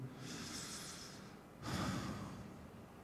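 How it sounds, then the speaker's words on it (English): A slow, deep breath drawn in and then let out in a guided relaxation session, a long soft airy inhale followed by a fuller, louder exhale, close and alone with no talking. "as you breathe in, just if you got any anxiousness or anything that you want to let go of, just release it on the exhale"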